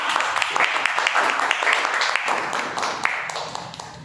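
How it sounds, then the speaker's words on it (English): Audience applause at a Toastmasters club meeting, a dense run of clapping from a room of people that holds steady for several seconds. "Please give him a round of applause."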